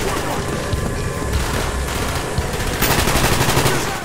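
AK rifle firing in Call of Duty: Black Ops on hard difficulty: loud, close, continuous automatic bursts that grow denser near the end, with no pauses.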